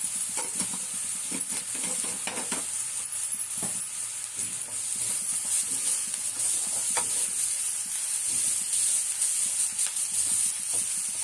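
Onions sauté in a pan for kara kuzhi paniyaram, a steady close sizzle broken by repeated scraping stirs of a spoon against the pan.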